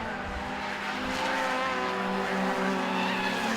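Honda VTEC Challenge race cars streaming past on the Castle Combe circuit, a continuous loud engine roar with high revving harmonics and a brief tyre squeal, no voices over it.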